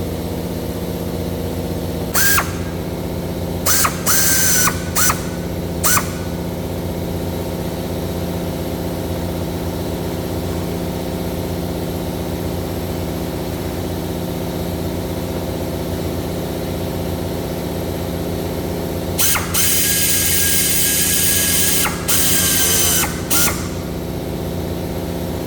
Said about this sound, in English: I'm going to tighten this stuff up with air tools